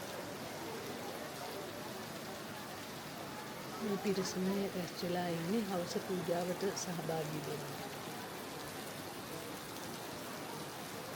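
Heavy evening rain at Somawathiya Raja Maha Viharaya temple, a steady, dense hiss throughout, with someone speaking over it for part of the time.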